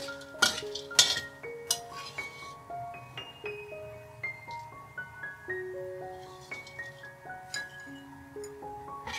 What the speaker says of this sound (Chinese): 然后放入番茄炒一炒